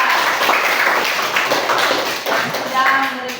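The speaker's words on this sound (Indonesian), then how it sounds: "kita tepuk tangan dulu untuk kesimpulan" A classroom of students applauds together at the close of a lesson, a steady wash of many hands clapping at close range, with children's voices mixed in toward the end.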